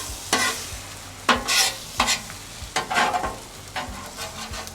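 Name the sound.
scrambling eggs on a Weber Slate griddle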